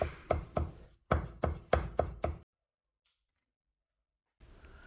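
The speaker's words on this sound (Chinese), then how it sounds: "半根大葱切成葱花，一小块生姜切成姜末" A knife chops green onion and ginger on a board in two quick runs of sharp, evenly spaced strokes, followed by a long silence and then a faint rustle.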